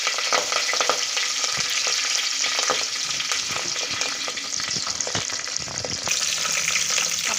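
Curry leaves and washed, torn nagini leaf pieces sizzle and crackle in hot oil in a pan, a steady close frying hiss broken by sharp pops and spatters, with no one talking.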